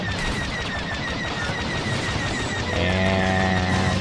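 Continuous rapid blaster fire in Star Wars Battlefront 2 on Endor, a dense steady stream of shots with a vehicle-like hum joining near the end.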